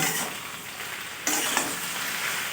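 Vegetable curry with cumin and coriander powder, salt and spices stirred in a hot pan: a broad continuous sizzle that jumps louder midway, with a single soft utensil tap, close and steady, no speech.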